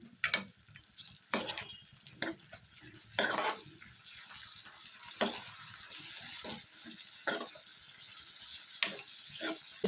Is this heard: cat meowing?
no